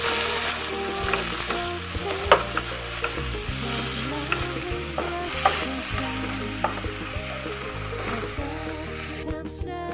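Chopped tomato and green chilies fry in a pan for a mixed-lentil dal, with a continuous close sizzle and repeated stirring scrapes, while faint music plays underneath.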